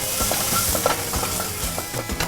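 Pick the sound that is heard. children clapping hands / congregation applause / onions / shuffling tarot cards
onions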